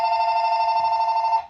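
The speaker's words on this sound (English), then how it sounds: "Sierra and her dad were talking about her college plans when the phone began to ring." Telephone ringing: one loud, steady electronic ring tone that lasts about a second and a half, then cuts off, with no voices over it.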